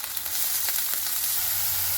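Finely chopped onion tossed into a saucepan of hot oil with cumin, urad and chana dal, ginger and green chili, giving a steady, close hissing sizzle throughout with no talking.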